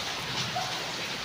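Steady rain falling on a house in a village during the rice-planting season, a soft continuous hiss with no voices over it.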